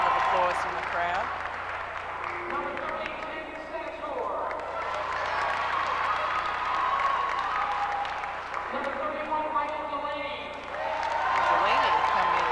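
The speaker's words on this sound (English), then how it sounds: "Andy Howley gets a fine round of applause from the crowd." Spectators at a 1987 high school basketball game between Paul VI and Willingboro give a steady round of applause, a broad continuous wash of clapping and crowd noise with an announcer speaking over it the whole time.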